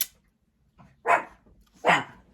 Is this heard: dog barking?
yes